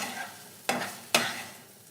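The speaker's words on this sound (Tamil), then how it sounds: "கருவேப்பிலை மட்டும் போட்டு வதக்கிட்டு இந்த காயை போட்டுடுங்க" Sweet potato pieces with curry leaves sauté in a pan, a soft steady sizzle broken by two sharp scraping stirs of a spatula close by.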